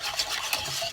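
A whisk works chocolate cream in a saucepan over medium heat, giving a steady, close, brushy scraping that runs on without a break.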